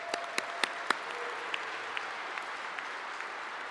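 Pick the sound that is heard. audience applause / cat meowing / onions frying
audience applause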